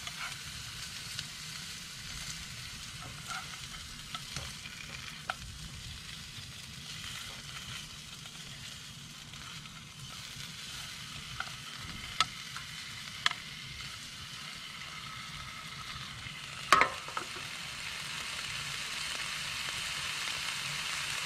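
Supper of meat fries and sizzles on a stove inside an ice fishing hot tent, a steady close crackling hiss lasting throughout with occasional small pops and clicks and no talk.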